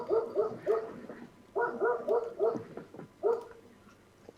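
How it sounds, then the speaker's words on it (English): Dogs barking in short clustered bursts of several woofs, pausing between volleys, moderately close and with no talk. "Who's got dogs?"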